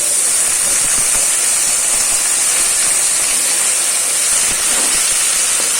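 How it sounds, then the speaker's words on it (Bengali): Ash gourd pieces frying in a pan for a vegetarian chana dal dish, a steady close hiss of hot oil with faint crackle running throughout, no voices. "চাল কুমড়ো দিয়ে দু মিনিট খুব ভালো করে একটু ভেজে নেবেন"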